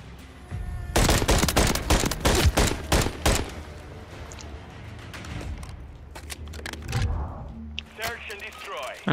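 MCW assault rifle fire in Call of Duty MW3 Search and Destroy, a loud cluster of rapid automatic shots early on, then scattered quieter shots and in-game clatter trailing off.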